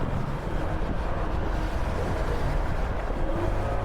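Steady engine drone of a motorcycle (motor) cruising at around 80 on a ride, a continuous low rumble mixed with wind and road noise and no pauses.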